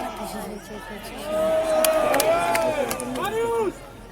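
An arena crowd cheers for gladiators at a staged combat show, a swelling mass of voices that surges loud midway and stays lively, with a shouted voice rising over the din near the end.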